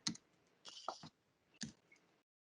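A few crisp, close clicks on a computer keyboard come as an address is typed: a single tap, a short cluster, then one more click before silence.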